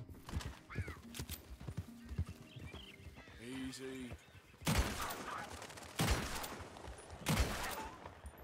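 In Red Dead Redemption 2, a horse's hooves clip-clop steadily and it lets out one clear whinny, then three loud bursts of gunfire crack through, with someone talking over much of it.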